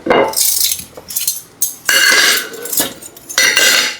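Plates and cutlery set out for a family meal, with repeated close, bright clinks and clatters of dishes and silverware coming in several quick bursts.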